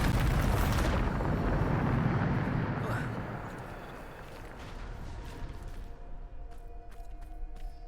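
A Bombarda spell explosion in Hogwarts Legacy: a loud, broad blast at the start that swells and then slowly decays into a rumbling tail, with scattered crackles following.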